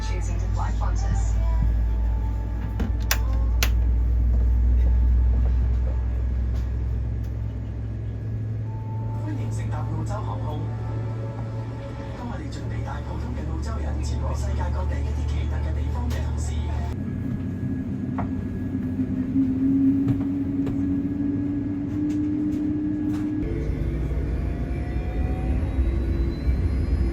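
Qantas Boeing 787 engines spool up at the gate, heard from inside the cabin as a low rumble with a rising whine, under a steady hum and occasional clatter.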